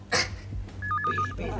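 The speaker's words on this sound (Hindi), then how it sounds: "जाओ, जल्दी से फोन उठाओ।" A telephone rings in a home, an electronic trilling ring that repeats briefly and sits moderately loud behind a short thump and room noise.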